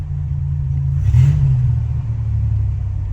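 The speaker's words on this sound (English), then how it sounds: "Let me see if I give it gas, what it does." A 1987 Buick Regal Limited turbo engine, still warming up and fitted with a tweak chip, is revved once. The rumble swells sharply around the midpoint and then settles back into a steady idle, close and loud, with no one speaking.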